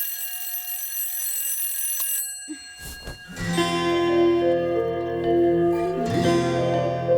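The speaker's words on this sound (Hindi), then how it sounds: "ए भाई, ये अलार्म अपनी बेटी को उठाने के लिए लगाया है या पूरे मोहल्ले को?" An alarm clock rings in a home, a loud sustained electronic tone that breaks off briefly, then starts again as a shifting, insistent ringing.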